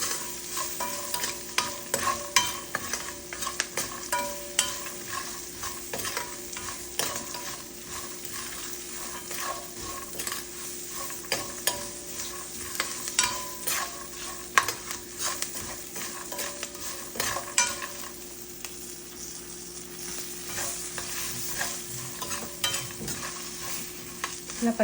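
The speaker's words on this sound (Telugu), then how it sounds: "ఇప్పుడు పచ్చిమిర్చి కొంచెం వేగేంత వరకు వేసుకోవాలి" Green chillies frying in hot oil with salt and asafoetida, a continuous crackling sizzle with dense stirring and clinking of a spatula against the pan throughout.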